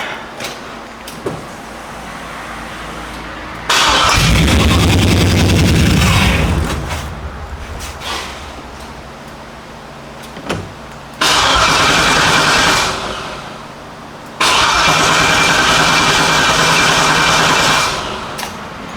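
A G-body car's engine, running rough from a fault, cranks and fires up loudly, runs unevenly and dies down, then restarts twice more with rough, rumbling bursts between quieter gaps.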